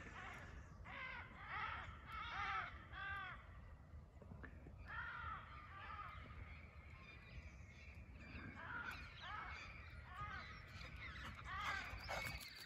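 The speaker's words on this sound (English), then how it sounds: "The crows are saying good morning." Crows caw on a chilly autumn morning, with a run of repeated harsh calls followed by more scattered caws, moderately distant over a low outdoor background hum.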